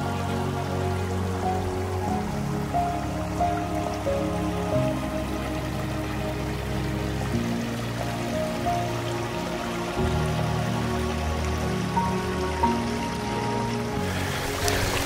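Mountain creek on the Appalachian Trail near Neels Gap, water trickling and gurgling steadily over rocks for the whole stretch, close by, with no voices.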